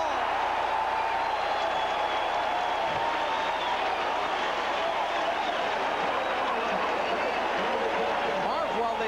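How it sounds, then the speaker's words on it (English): Stadium crowd at Shea reacting to a touchdown in a 1981 Oilers–Jets football game, a steady, distant roar of applause and babble sustained throughout at moderate level. "And the crowd is reacting."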